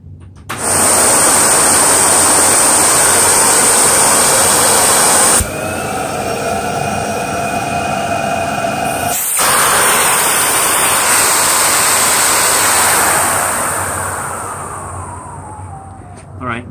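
An Electrolux Marquise 12-amp vacuum cleaner with a PN4 power nozzle runs with no bag fitted, giving a loud, steady roaring whine that shifts pitch briefly midway as the suction at the hose end changes.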